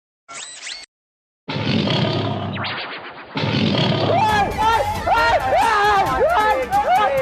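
A person gives a loud, drawn-out imitation of a lion's roar, after which several voices break into excited, overlapping chatter and laughter.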